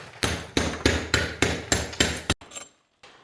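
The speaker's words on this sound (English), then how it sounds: "then carefully finished with a bolster and club hammer" A club hammer strikes a bolster chisel to chip tough mortar away from breeze blocks, seven sharp, loud, close blows in a quick regular rhythm, followed by a brief scrape and near silence.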